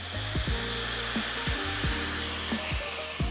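A hair dryer blow-drying hair over a round brush runs as a loud, steady whine, its motor pitch dipping and wavering every half second or so as the airflow shifts, with no voices.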